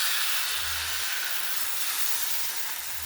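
Batter poured onto a hot oiled tawa for pea-flavoured sarucakli in a village kitchen, giving a steady loud hiss and sizzle that holds evenly for a few seconds with no talk over it.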